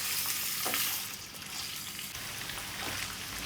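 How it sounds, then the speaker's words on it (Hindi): Beef fries for achar gosht in a steady, loud sizzle of close hissing and crackling, with a faint scrape of stirring partway through and no talking. "अब इसे फ्राई करना है अच्छे तरीके से।"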